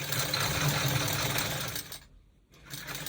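Sewing machine stitching down a seam on a basic bodice, a steady close mechanical whir that stops briefly near the end and then starts again.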